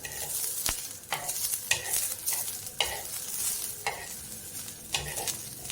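Green chillies roast in oil in a pan over low gas, a close, steady sizzle broken by repeated scraping and stirring strokes, with no one speaking.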